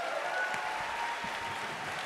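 A large audience at a radio townhall event claps loudly and steadily in a dense, continuous round of applause, with no speech over it.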